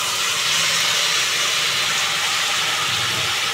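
Eggplant and potatoes hit hot spice paste for an eggplant curry, setting off a loud, dense, steady sizzle that fills the whole moment without any talking.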